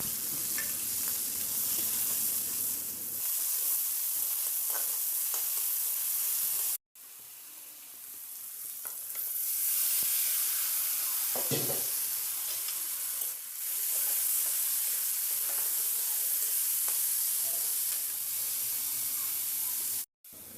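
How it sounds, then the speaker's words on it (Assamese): Ground ginger, garlic and cumin spice paste fries in hot oil, a loud continuous hiss and sizzle with occasional stirring scrapes, close up and briefly cut off twice, no speech. "আৰু ইয়াত একেলগে মই তেলত দি দিম মছলা যিখিনি মই পিচি থৈছিলোঁ, আদা নহৰু আৰু জিৰা"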